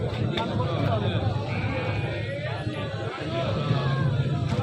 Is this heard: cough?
no